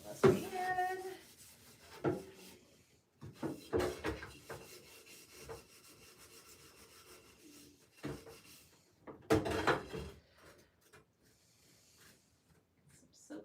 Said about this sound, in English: you have to really scrub the back of the pan, like really, really good